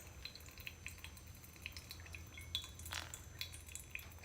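Water poured slowly over ground coffee in a Hario V60 pour-over dripper makes faint trickling and dripping with soft clinks, heard alone and quiet.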